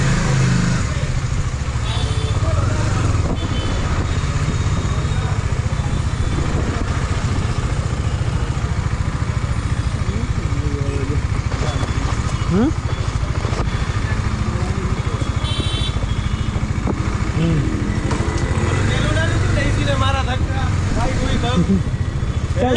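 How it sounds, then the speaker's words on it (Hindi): KTM Duke motorcycle engine running continuously and loud near the listener, a steady rumble with people talking over it throughout. "भाई की बाइक चालू हो गई."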